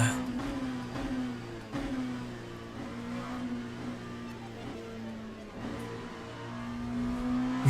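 Race car engine in the Le Mans Ultimate racing game, driven off the track onto rough ground, holding a steady loud drone with repeated surges and small revving swells throughout.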